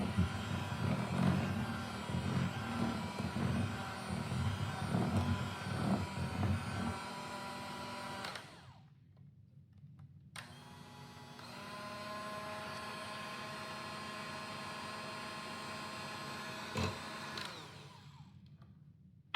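An electric mixer creams butter for a gooey butter cake, whirring steadily with a rougher churning first half, then briefly cutting out before resuming as a smoother, even hum.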